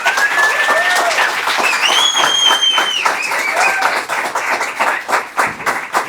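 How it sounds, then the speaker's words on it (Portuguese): Lively crowd clapping, strong at first and thinning toward the end, with a few whistles rising above it. "Então, uma calorosa salva de palmas para Felipe Carreiro, da NV Soluções."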